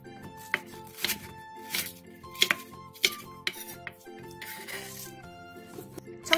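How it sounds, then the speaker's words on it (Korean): A knife slices an onion into thin strips and cuts half a green onion into short lengths, a run of quick, close chopping taps on a cutting board with some clinking of kitchenware. "양파 한 개를 채 썰고 대파 2분의 1개를 3cm 정도 길이로 썰어주세요"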